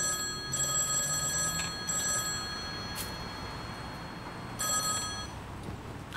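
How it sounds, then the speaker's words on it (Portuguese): A telephone rings indoors in repeated bell bursts, fairly quiet, with no voices over it. "Amira, acabaram de ligar lá do hospital."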